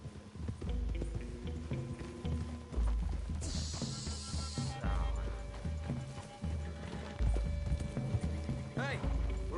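Horse hooves clip-clop at a steady walking rhythm in Red Dead Redemption 2, set among trees near a clearing, heard under game music and character dialogue.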